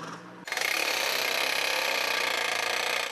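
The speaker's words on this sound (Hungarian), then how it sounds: "körülbelül 3 méteres acélrudakat fúrnak le a földbe" Steel rods about three meters long being drilled into loose sandy ground for a temporary border fence, a loud continuous mechanical grinding whir that starts abruptly after a short quieter moment and holds steady.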